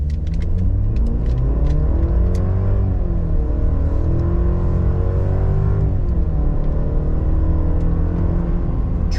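A 2026 Chevrolet Silverado pickup launches from idle in a 0 to 60 run. The loud, close engine roar climbs steadily in pitch, briefly drops near the middle as it shifts, then rises again. No one speaks.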